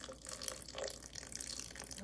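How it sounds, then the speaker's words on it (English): Water being poured from a container over raw cashews in a pot while making cashew cream, a steady splashing liquid stream that runs throughout at close range. "We're just going to take this water and pour it in just over the top of it."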